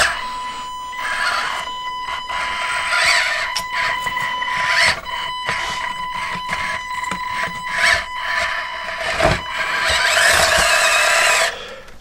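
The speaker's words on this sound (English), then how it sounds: "Sorry for the stock ESC whine." An RC crawler chassis running its stock ESC gives a high, steady electronic whine over busy motor and gear noise, with scattered knocks and rubbing, loud and close throughout.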